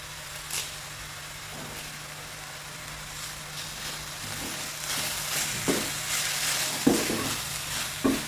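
Curry leaves crackle in hot oil in a pan for a carrot and lentil thoran, a steady frying hiss rising partway through, with a few sharp pops and clinks of a spoon stirring.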